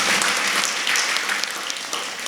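An audience in a church applauds the priest at a Syro-Malabar feast, steady dense clapping from many hands that holds for a couple of seconds and then eases slightly.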